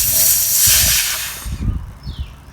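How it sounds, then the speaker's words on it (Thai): Hot steam hisses steadily out of a Tefal steam generator iron's separate boiler as a hose is loosened, a loud broadband rush that fades after a second or so, leaving quieter handling noises. "นี่ร้อนนะเนี่ยไอร้อนอยู่นะ ต้องค่อยๆ คลายนะครับ"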